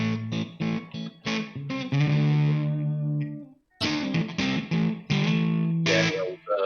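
An electric guitar through an MXR Classic 108 Fuzz pedal plays a series of thick, buzzy, heavily saturated notes and chords, with a brief pause before the fuzzy phrases resume.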